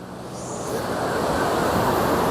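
A forceful mountain river rushes through a valley on the road from Tawang to Dirang, its constant broad roar of churning water close and loud, swelling slightly and then holding steady.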